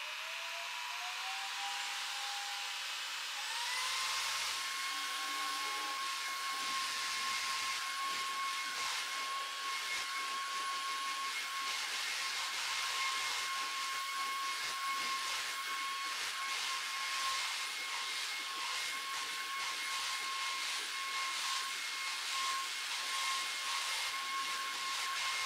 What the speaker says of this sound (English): Here I'm vacuuming the chair with the upholstery tool